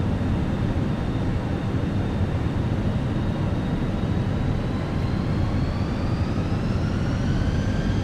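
Fenix A320 airliner on approach in Microsoft Flight Simulator, a steady, even engine and airflow rumble throughout with a faint rising whine, no voices.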